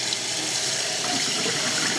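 Vegetable chopper blades from a 5-in-1 electric cheese grater rinsed under a running kitchen tap, a steady loud rush of water splashing into the sink with no pauses.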